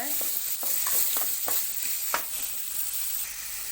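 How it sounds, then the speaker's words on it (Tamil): Onion and dried red chillies stir-fried in a pan, giving a soft steady sizzle with a few scraping strokes of a spoon, fairly quiet and close, with no talk. "இது கூடவே நாலு வரமிளகாய் சேர்த்துக்கிறேன் அதையும் நல்லா கலந்து விடுங்க"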